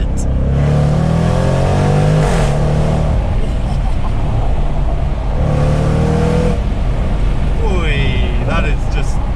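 A 2022 Jaguar F-Pace SVR accelerates out of a corner on a twisty road, its engine note rising loudly and continuously from inside the car, with someone talking over it.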